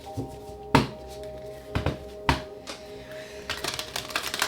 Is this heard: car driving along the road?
no